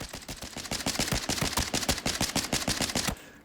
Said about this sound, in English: The fastest burst you can do, you'll see here.